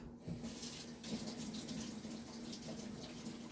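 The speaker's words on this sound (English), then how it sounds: "I'm just gonna wash the bottle off here" Water runs steadily from a tap while a bottle is rinsed under it, a continuous close splashing gush with no talk over it.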